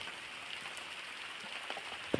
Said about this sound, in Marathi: बाहेर पाऊस लागतोय जमीन ओली झाली बघा